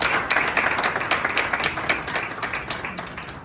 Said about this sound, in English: Shall we do a big round of applause for him?